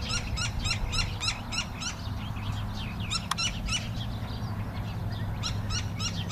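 An owl calls in a regular series of repeated hoots over a steady low hum of background noise, clear and fairly close, joined by a few other bird chirps.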